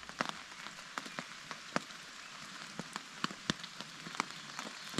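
Steady rain falls on a tent in Algonquin Park during a solo canoe trip, with a constant soft patter and many sharp, close drips striking the fabric at irregular intervals. No one speaks.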